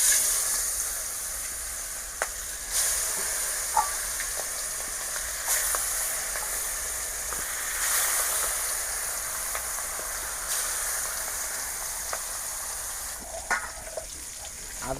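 Carp pieces fry in hot oil in a wok, giving a steady loud sizzle and crackle with occasional sharp pops and stirring clinks throughout, with no talking.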